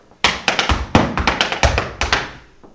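Tap dance shoes strike a rapid cramp roll and surrounding steps, crisp ball and heel taps landing in quick clustered bursts, close and fairly loud with no talking.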